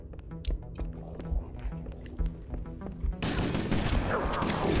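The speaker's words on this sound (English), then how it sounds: "I am gonna shoot this thing until it is empty" Gunfire in the video game Halo: Combat Evolved, a run of separate sharp shots at moderate volume, then a louder, denser wash of firing and noise toward the end, with no talk over it.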